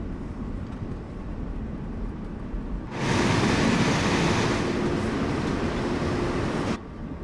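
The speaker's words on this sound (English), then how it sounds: "When this train flies past as well, folks, it's exactly the same sounds as the IC coaches." A train made up of IC coaches rushes past in the Train Sim World 4 simulator on the Semmeringbahn. A loud, sustained roar of wind and rolling stock lasts several seconds, then cuts off abruptly.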